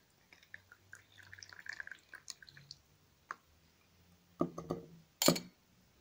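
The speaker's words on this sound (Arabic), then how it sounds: "الآن سوف أقوم بتصفيته نأخذ مصفاة بهذا الشكل وسأقوم بتصفيته" Boiled juniper liquid drips through a kitchen strainer in scattered, close, quiet drips and small splashes, building to a few louder splashing bursts near the end, with no talking.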